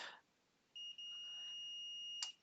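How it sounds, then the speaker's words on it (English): A multimeter in continuity mode beeps while probing a PS4 motherboard connector, giving a single steady high-pitched tone that holds for over a second, preceded by a faint click and ending with a short sharp tick. "the multimeter beeps"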